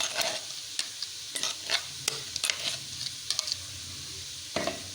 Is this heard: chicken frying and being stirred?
yes